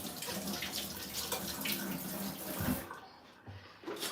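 Vegetables are rinsed under a running kitchen tap, a steady broad rush of water that stops briefly near the end before flowing again.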